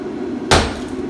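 A single sharp hammer strike on a brick fireplace during demolition, a loud close impact with a short ringing decay, standing alone without voices.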